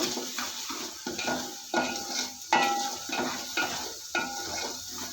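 A spoon scrapes and clinks rhythmically against a pan while cumin, coriander and pepper powder are stirred in, about eight close strokes with faint sizzling beneath.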